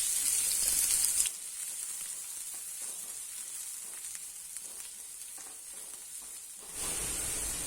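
Finely chopped onion sizzling in hot oil in a kadhai, a steady close hiss that flares louder when the onion goes in and eases while it fries.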